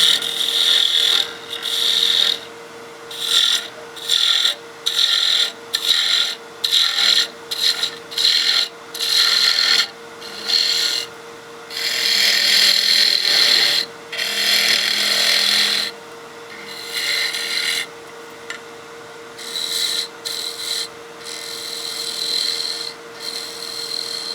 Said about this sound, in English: Switch to our spindle gouge and start getting the curve we need.